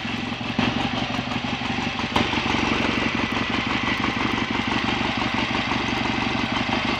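A BSA A65 Thunderbolt motorcycle engine, just started after a first attempt, idling close by with a steady, even mechanical clatter and rapid regular firing pulses throughout.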